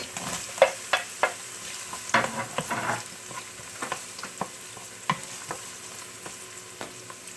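Onion goes into a pot with ginger for chicken tinola and is stirred, making faint sizzling under repeated sharp scraping clicks of a spoon against the pot, spaced irregularly.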